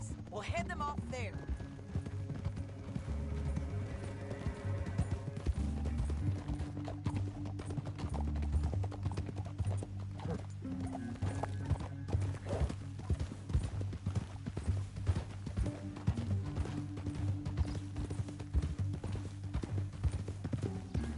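Horses' hooves clip-clop steadily in a Western-style video game, a continuous rhythmic patter beneath a music score and characters talking.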